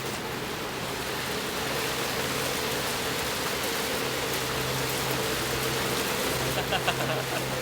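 Steady rain pours in a dense, even hiss throughout, with a low hum running beneath and a few brief sharper patters near the end.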